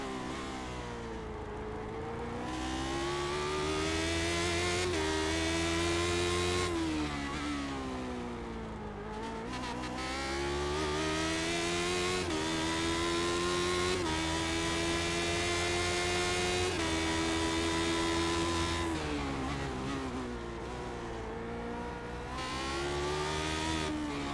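Lotus 79 race cars in a video game at Long Beach, with loud, steady engine roar that rises in pitch and drops at each gear change, several vehicles close together, and no talk.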